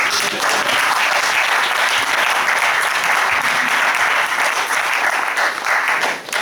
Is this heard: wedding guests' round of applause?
yes